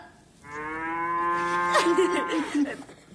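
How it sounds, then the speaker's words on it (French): A mechanical cow invention gives one long, loud, steady moo that turns ragged and wavering near its end. No one speaks over it. "On dirait une vraie vache"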